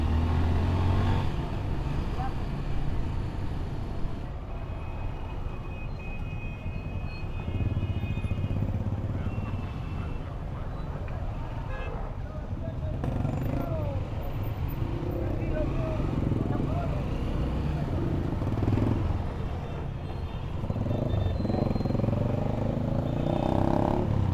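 Busy street traffic on the Peruvian coast: a dense, continuous rumble of cars and motorcycles with engines revving and passing close, loud and unbroken throughout.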